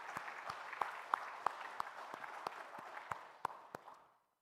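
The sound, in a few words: congregation applauding in church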